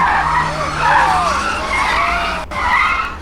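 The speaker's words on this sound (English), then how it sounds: "the screeching tires of a fresh Kia can be heard driving into the gardens." Tires of a Kia car screech as it drives in, a loud wavering squeal sliding up and down over a steady engine rumble, with a brief dropout near the end.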